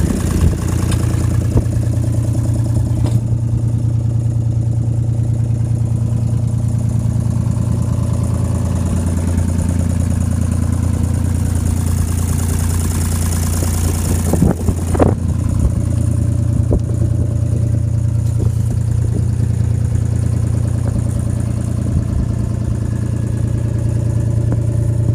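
A 2005 Caterpillar 303CR mini excavator engine runs continuously, loud and close, with a steady diesel drone that shifts pitch slightly midway, plus a few brief clanks.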